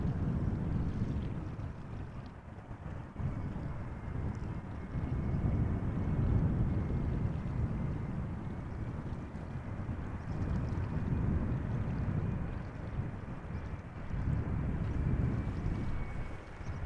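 An Embraer 175 airliner arriving at Amsterdam Schiphol produces a low, rumbling engine drone that swells and fades in slow waves under gusty wind buffeting, with no talk.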